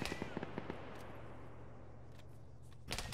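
Gunfire in the Arma mod Antistasi: a quick burst of several sharp shots at the start, a quiet lull, then another loud crack near the end, with no talk.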